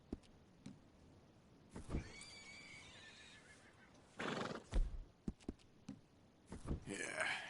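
A horse in a PS4 video game whinnies clearly, with clip-clopping hooves and scattered thumps around it, close and fairly quiet, and someone talks briefly over the sounds.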